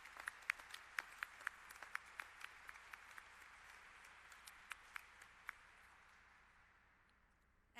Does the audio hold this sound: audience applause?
yes